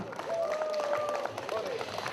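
Audience at an outdoor parish picnic clapping, a dense patter of applause from a mixed crowd with voices and a whistle-like tone above it.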